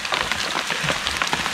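Rain falling outdoors around a cooking spot, a steady dense patter of drops striking surfaces, fairly loud and continuous with no clear talk.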